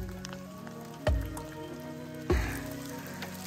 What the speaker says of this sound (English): this is really difficult and it's raining, so we'll just continue.